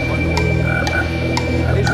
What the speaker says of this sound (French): Oh, grenouille!